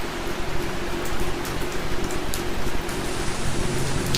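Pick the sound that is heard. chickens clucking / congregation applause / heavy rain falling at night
heavy rain falling at night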